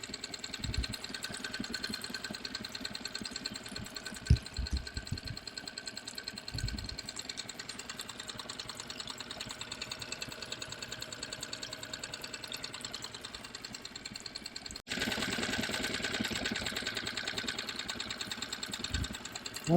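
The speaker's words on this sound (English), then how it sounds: "So this engine is running now just with the fuel in the carburetor" A Tohatsu Sail Pro outboard engine on a VN 23 sailboat idles on the fuel left in its carburetor, a steady mid-pitched putter with faint knocking that holds throughout and grows slightly louder near the end.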